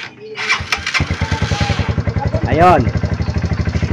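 A motorcycle starter motor spins when its contacts are bridged, cranking the engine into a fast, steady chugging idle up close, with a brief whirring rise partway through and a short spoken word at the start.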